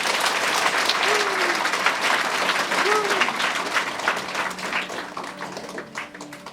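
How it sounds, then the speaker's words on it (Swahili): A church congregation claps together in a dense, sustained round of applause, steady and fairly loud throughout and tapering slightly near the end, with faint voices mixed in. "Pigia Yesu makofi"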